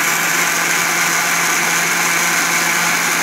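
A smoothie blender runs steadily on its lowest speed setting, a loud, continuous whirring motor drone that holds constant throughout with no pauses and no voices.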